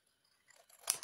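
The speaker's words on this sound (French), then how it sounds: "je viens tout simplement couper ce qui dépasse" Scissors snip through paper while trimming off excess during a craft embellishment project, a few quick crisp cuts, close and soft, with no talk.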